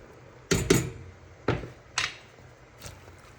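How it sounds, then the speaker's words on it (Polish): Squeezed vegetables dropped into a pot of boiling brine while making a green tomato salad, heard as several close, sharp clattering impacts spaced apart, each trailing off quickly. "Teraz wrzucam odciśnięte wcześniej warzywa."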